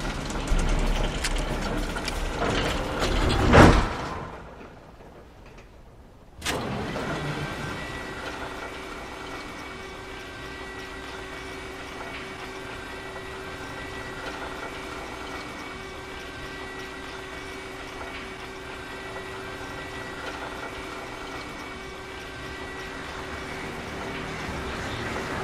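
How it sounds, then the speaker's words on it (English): A cable car in Alan Wake runs with a steady low mechanical hum and faint clatter, continuous and moderately near after a brief silent gap, with no talking. "Another cable car. Just great."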